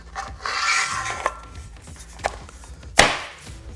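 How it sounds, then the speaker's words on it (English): WeatherGuard Defender truck rack cover sliding into place on a Ford F-150, a scraping rub with light knocks and a sharper clunk near the end, close by. "we can slide our WeatherGuard cover over like this"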